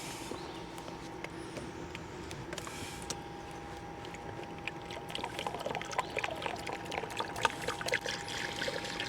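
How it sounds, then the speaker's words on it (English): Liquid is poured slowly into the fluid tank of a truck parked at an RV campsite, a steady soft trickling and splashing that runs throughout and grows a little louder toward the end. "I'm going to stand up here, remove the cap, and we'll slowly pour it in."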